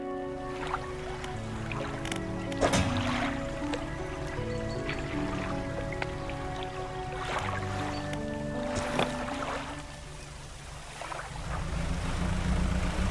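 Engines of a fishing boat in the game DREDGE chug over water, with lapping and sloshing, a few clanks and drips, and the engine tone rising and falling for the whole stretch.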